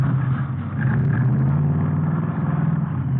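A 120-horsepower hot rod car engine built from salvage cars cranks and catches, then settles into a loud, steady low rumble with a lumpy idle, close by.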